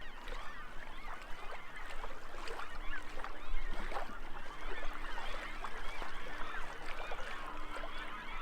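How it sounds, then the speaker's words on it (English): Water flowing steadily past a riverside camp in South Dakota, a constant soft rushing wash with faint bird calls in the background, no talking. "the sound of this water here is just gonna put me right to sleep"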